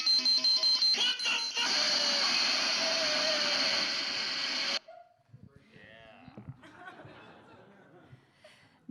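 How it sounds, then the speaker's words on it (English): A panel buzzer blares as a loud, sustained electronic tone for about five seconds, cutting off abruptly into audience laughter and chatter. "And Mike's buzzer sounds like this."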